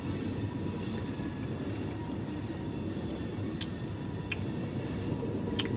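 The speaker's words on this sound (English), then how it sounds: "I will get a whole ass train next to me while I'm shooting my motherfucking video." A train rolls by nearby with a continuous low rumble of wheels on rails, broken by a few faint metallic clicks and squeaks.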